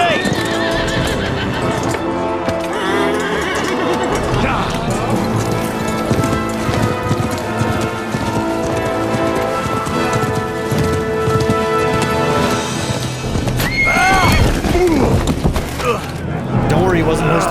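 Horses in Kingdom Come: Deliverance II neigh several times over steady hoof clip-clops, with a loud whinny near the end, while someone talks over busy music and ambience.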